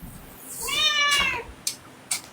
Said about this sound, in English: Yeah, Cat disagrees with you.